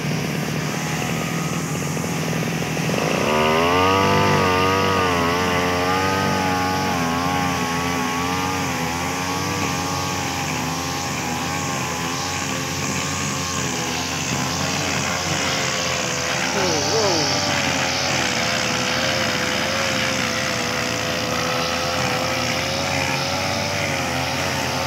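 A motorized grass cutter running in a durian orchard, a steady buzzing engine drone that revs up early and keeps a wavering pitch throughout, with talk over it.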